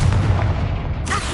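A fiery Confringo spell explosion in Hogwarts Legacy, a short loud booming burst with low rumble, alone without talk.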